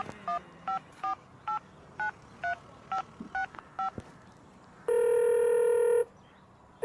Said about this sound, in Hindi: पापा को फ़ोन करता हूँ।